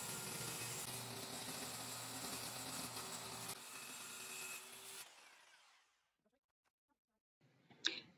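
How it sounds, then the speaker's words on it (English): A power saw roars steadily through a wooden dining table for about five seconds, then the whine winds down to silence before a brief clatter near the end. "The saw blade was not deep enough to cut all the way through, so he's having to make a second cut on each side."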